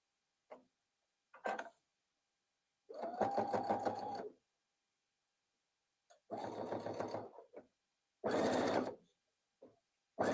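A sewing machine bastes the ears of a fabric memory bear in place, running in several short bursts of rapid stitching separated by quiet pauses, close and clear with no talk.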